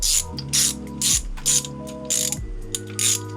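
A ratchet driving in a valve cover bolt on an MK4 GTI, rapid clicking pawl bursts in a back-and-forth rhythm, close and loud, about seven strokes with no talking.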